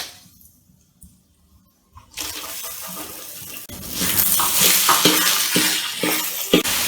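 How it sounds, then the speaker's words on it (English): Near-silence, then about a cup of chopped onions drops into hot oil with frying chilies and erupts into loud, close sizzling that grows stronger, with stirring clatter and a sharp knock near the end. "now I'm going to add in 1 cup of nicely chopped onions"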